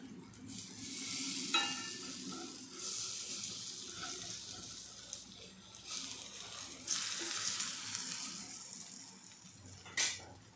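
Patties fry in oil in a pan with a steady, faint hiss of sizzling, broken by occasional brighter crackles and scraping bursts as they are stirred or shifted.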